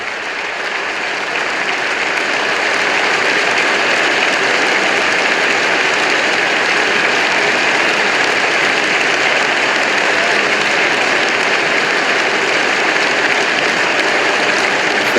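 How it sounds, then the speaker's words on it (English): Sustained applause from a large stadium crowd at an AFL match between the Adelaide Crows and St Kilda, a steady broad wash of clapping that holds loud and even for the whole stretch with no voices over it. "you can hear the applause"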